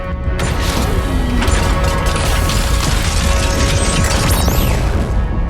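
Heavy mechanical clanks, ratcheting gears and metallic whooshes churn loudly and continuously as cannons deploy in Death Stranding 2, with layered machine noise and sweeps.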